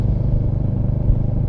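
Royal Enfield Hunter 350 motorcycle engine idling or cruising nearby, a steady low thumping pulse with a slight clatter, heard alone for a brief moment.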